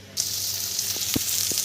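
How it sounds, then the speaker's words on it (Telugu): Onions sizzling in hot tempering oil in a pan for oats upma, a loud steady hiss with a few soft stirring knocks, no voices. "కొంచెం ఆనియన్స్ ఫ్రై అవ్వాలండి."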